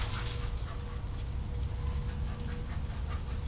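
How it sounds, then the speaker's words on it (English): A dog in a small shelter kennel pants and whimpers up close, with steady breathy noise and faint high whines throughout. "Good dog, Gidget."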